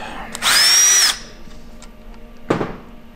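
A power tool whirs in one short burst of about half a second while removing the crank bolt on a Honda CB1000R, followed by a brief clank, close in a quiet workshop.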